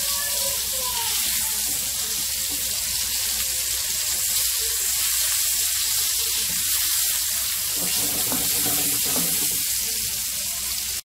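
Chicken seekh kebabs sizzle in a pan with a continuous, close frying hiss, joined by a faint low sound of movement toward the end.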